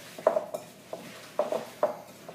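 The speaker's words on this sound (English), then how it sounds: "Give that a mix in" Vanilla bean paste being stirred into a bowl of ingredients for no-bake chocolate peanut butter cereal squares, with a few distinct scraping and clinking strokes of a utensil against the bowl, close and moderately loud.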